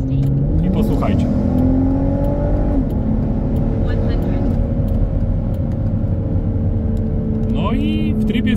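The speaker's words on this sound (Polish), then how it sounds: "w trybie sportowym przepustnica wydechu się otwiera." A Volvo V60 T6 Polestar 3.0-litre straight-six engine hums and rises as it revs through gears in sport mode with the exhaust valve open, a throaty exhaust note, steady and close throughout.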